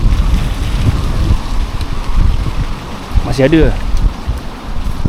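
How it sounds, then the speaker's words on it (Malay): Strong wind gusts across an open balcony of an abandoned bungalow in a constant, rumbling roar that buffets the microphone, with a few brief words spoken over it. "Walaupun panas, angin kuat."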